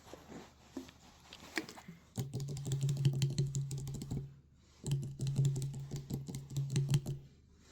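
Crisp tapping and scratching on a recycled plastic bottle, delivered in two dense bursts of rapid clicks up close, with a quieter stretch of lighter taps before them and no talking.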